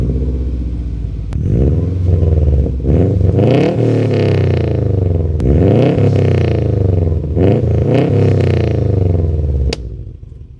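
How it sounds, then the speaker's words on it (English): A 2009 Subaru Forester XT with a catless turbo-back exhaust revs repeatedly from idle, each blip rising sharply and falling back in a loud, raspy, close-up sweep, several revs in a row before settling at the end. "Catless turbo back, so I'll give you guys a quick sound clip."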